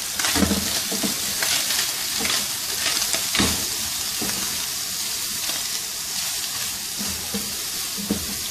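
Finely chopped carrot, cabbage and green onion for a spring roll filling, frying and being stirred in a hot pan: a loud, steady sizzle broken by repeated scraping strokes of the spoon, with no talking.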